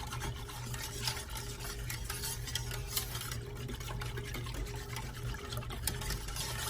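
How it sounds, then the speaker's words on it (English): Apple pie filling is whisked constantly in a pot on the stove as it thickens, making a soft, continuous scraping swish with faint liquid sounds underneath, quiet and steady. "we're going to stir this constantly until it thickens. Make sure you're just whisking, stirring this."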